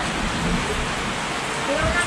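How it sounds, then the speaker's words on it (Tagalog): Rain falls steadily, making an even, dense hiss with small fluctuations that holds for the whole stretch. "Ulan."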